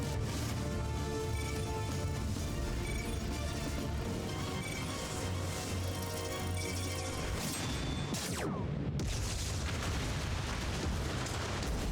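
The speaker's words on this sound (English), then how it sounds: "there's a big explosion" A big explosion in the Final Fantasy XIV game, a dense, loud roar of rumbling low blast noise that swells over about twelve seconds with a sharp crash near the end, layered over continuous game music with no talk.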